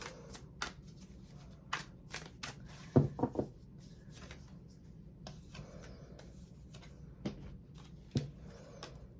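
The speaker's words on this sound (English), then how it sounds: "Let me give it a good shuffle." Oracle cards being shuffled by hand: a series of quick riffling flutters and soft taps, one burst denser in the middle, in a quiet room.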